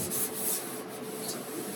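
Cloth wiping over the body of a 1972 Ford F100 truck after glass cleaner spray, ahead of painting in a DIY garage paint booth; soft, close rubbing strokes with a few brighter hissy swipes, no talking.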